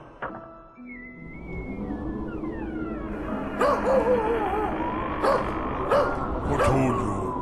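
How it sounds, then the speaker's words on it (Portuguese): A dog tied to its leash barks and yelps repeatedly in a cold outdoor night scene, sharp barks in bursts over a low whistling ambient bed, with no talking. "Preciso soltar o cão que está a se acabar preso à coleira"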